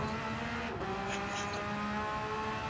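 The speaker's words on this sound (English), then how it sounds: "I can hear the car noise, y'all." A race car engine in Gran Turismo 7 at Road Atlanta drones steadily at high revs, with a brief shift in pitch partway through, continuous and fairly loud.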